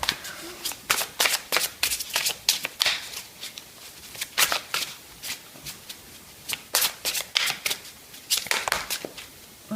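Angel message oracle cards are shuffled by hand in repeated quick riffling bursts, crisp papery flutters close up and fairly loud, with brief pauses between bursts.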